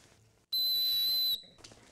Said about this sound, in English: Every pack almost has a whistle on it.